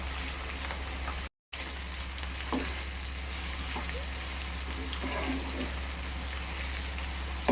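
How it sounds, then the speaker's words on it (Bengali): Onions, potatoes and slit green chilies frying in a pan for Bengali-style noodles, a steady soft sizzle with a brief drop-out and a few stirring taps, fairly quiet. "পেঁয়াজ আর আলুগুলোকে আমি সুন্দর করে ভেজে নিচ্ছি।"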